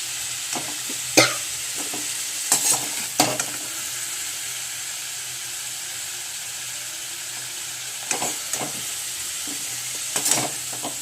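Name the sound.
bay leaves and whole cumin frying in hot oil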